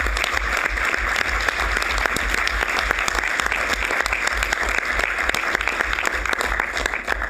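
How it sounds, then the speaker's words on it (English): Sustained applause from a large audience at a university board of trustees meeting, dense and steady throughout, with no talking over it. "That deserves a thorough round of applause."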